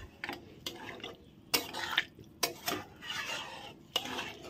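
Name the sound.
mashing boiled potato into soybean curry in pot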